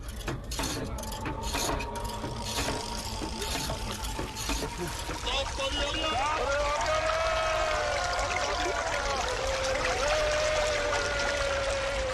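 Water pours and trickles steadily from a tap or pipe, a continuous close splashing stream that runs throughout, with excited voices talking and calling over it.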